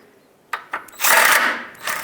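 Power tool snugging bolts on the front bumper of a 2003-09 Toyota 4Runner: two short mechanical bursts, then a longer whirring run and a final brief burst, close and fairly loud.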